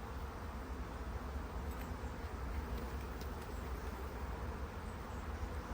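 Honey bees buzz steadily at a beehive during a swarm-ready hive inspection with queen cells present, a dense, continuous drone held close and unbroken throughout.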